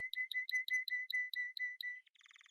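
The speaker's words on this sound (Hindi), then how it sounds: "अगले दिन मीना चिड़िया अपने घोंसले में बैठी होती है" A cartoon bird sitting in its nest chirps in a quick, regular series of about ten bright, clear tweets, followed by a softer fluttering trill, with nothing else audible.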